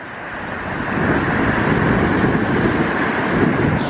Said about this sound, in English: It is very windy out here.